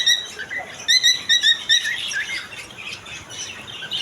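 Cockatiels and other pet birds in a bird shop chirp and tweet, with a quick run of bright, repeated chirps early on and then busy, overlapping chatter from several birds that continues to the end.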